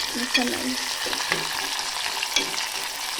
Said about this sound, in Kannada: ಇದು ಉಳ್ಳಾಗಡ್ಡಿ ಎಣ್ಣೆಯಲ್ಲಿ ಫ್ರೈ ಮಾಡ್ಕೋಬೇಕು. ಸ್ವಲ್ಪ ಬ್ರೌನ್ ಕಲರ್ ಬರುವವರೆಗೂ ಫ್ರೈ ಮಾಡ್ಕೋಬೇಕು.